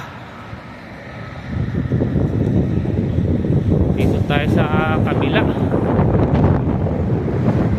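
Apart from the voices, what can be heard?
strong wind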